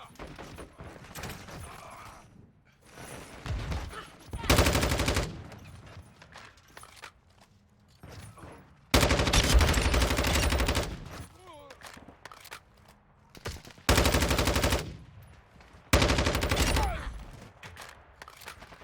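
Video game gunfire from a Call of Duty match: broadband bursts of automatic shots in several loud clusters, some lasting a second or more, with quieter stretches between them and players talking over the action.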